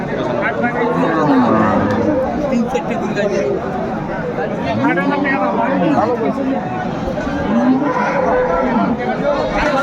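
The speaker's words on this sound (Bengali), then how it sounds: "গাভী বাছুর আমরা দেখছিলাম" Cows and calves low and moo repeatedly at a busy Aftabganj cattle market, several drawn-out calls rising over constant crowd chatter and nearby talking.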